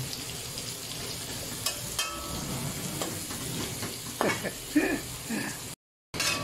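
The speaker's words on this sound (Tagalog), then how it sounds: "Gigisahin lang natin yan. Gisa-gisa lang yan." Boneless bagoong shrimp paste sautés in a pan with a continuous close sizzle and scraping stir sounds, while someone talks over the cooking.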